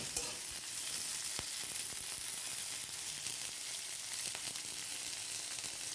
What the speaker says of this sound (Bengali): আমি আবার ক্যাপসিকামগুলো হালকা করে ফ্রাই করে নিচ্ছি।